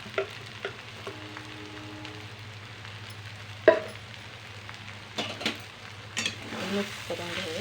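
Sabudana khichdi gets stirred in a pan over low heat, with soft scraping and spoon clinks against the pan above a faint, low background hum.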